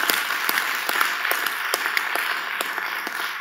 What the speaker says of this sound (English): a huge round of applause and thank you for enabling this event to happen